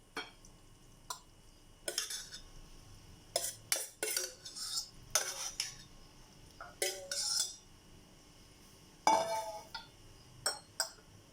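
Metal cutlery scraping and clinking against dishes as fish in liquid is served onto a plate, a series of irregular sharp clinks and scrapes, close and fairly loud, with no talking.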